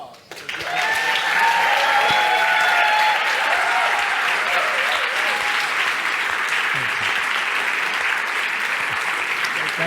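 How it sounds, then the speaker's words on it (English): Sustained applause from a conference audience at a plenary session on consciousness in Barcelona, steady and full for about ten seconds, starting abruptly and staying loud throughout. "So another big round of applause."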